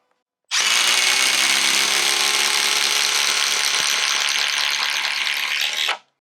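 A 12-volt impact driver, either a Milwaukee Fuel Gen 3 or a DeWalt 12V Xtreme, drives a long timber or lag screw in one continuous, loud, close burst lasting about five and a half seconds. It starts abruptly and cuts off sharply.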